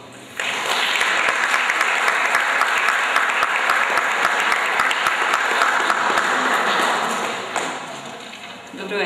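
Sustained audience applause at the Pantelej animated film festival award ceremony, a dense crowd clapping that rises abruptly, holds steady for several seconds, then tapers off near the end.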